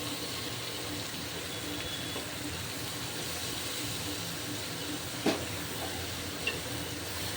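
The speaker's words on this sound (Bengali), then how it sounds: "এবার আমি কেটে রাখা আলুটা আর উচ্ছেটা দিয়ে দেবো" Potato and bitter gourd pieces sizzle in a pan of frying onions for a Bengali fish curry, a dense, even hiss that runs for several seconds with a couple of small clinks of a utensil.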